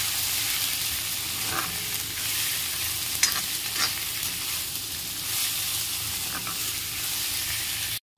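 Kuchupeta fish frying in a pan, a continuous close sizzle and hiss with a few scraping stirs and light knocks before stopping abruptly at the end.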